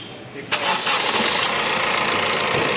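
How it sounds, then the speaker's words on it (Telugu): A 2016 Honda Amaze 1.5 cranks briefly and catches on a single start. It then settles into a steady, close engine idle that continues to the end. "ఒకసారి ఇంజిన్ అనేది ఆఫ్ చేసి మళ్ళీ ఆన్ చేస్తానన్న చూడండి"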